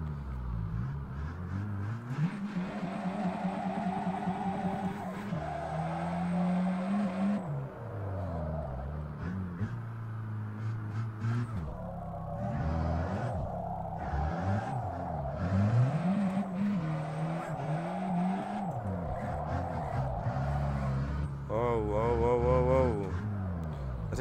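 Engine revving and tire squeal from a racing game rise and fall repeatedly as a car drifts, with a person talking over much of it.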